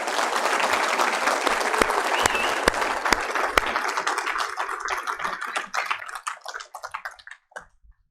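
Audience applause at a Daf Yomi Torah lecture, a dense sustained clapping that holds steady for several seconds and then thins into scattered claps before dying out.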